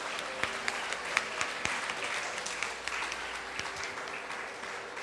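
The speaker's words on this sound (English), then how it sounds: "Please give a huge round of applause." Audience applause at a school annual day celebration for very young performers, a steady wash of clapping with scattered sharper claps standing out, moderately distant and sustained throughout.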